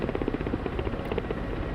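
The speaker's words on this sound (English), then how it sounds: "I'm going to switch the helicopter into hover mode" Steady, close rotor thump and turbine whine of a Black Shark attack helicopter hovering in the flight simulator Digital Combat Simulator, a continuous rhythmic chop with no talk over it.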